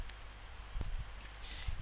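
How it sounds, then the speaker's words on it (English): Computer keyboard keys clicked while entering a user ID and password at a login, a few sparse, close taps over a quiet room hum. "he will be typing his password and his user ID"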